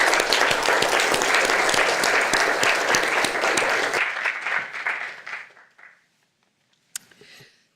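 An audience at an evening talk on Chinese environmental activism bursts into sustained applause that welcomes speaker Pam Scholl, loud and dense at first, then thinning out and fading to silence, with one late isolated clap.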